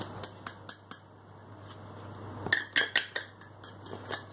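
A spoon clinking and scraping against a bowl while coconut is mixed with sugar and corn flour, a few sharp taps followed by a denser run of clattering strokes, close by, no speech.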